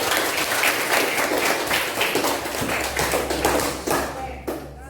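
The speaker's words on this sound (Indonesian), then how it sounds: "Iya, alhamdulillah, tepuk tangan." A classroom breaks into loud applause, many hands clapping in a dense, uneven patter that swells and then thins out toward the end.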